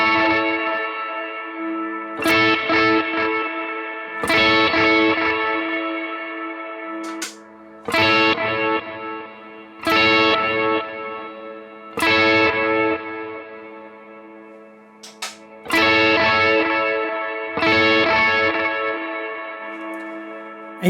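An electric guitar played through a Fractal FM3 with delay and reverb, chords struck roughly every two seconds, each ringing out into a long echoing tail, with the pre and post effect placements heard one after the other.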